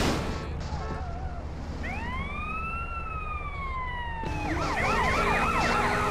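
Police sirens in Grand Theft Auto: San Andreas wail, first a long rising and falling tone, then several overlapping yelping sirens close by over a constant engine rumble.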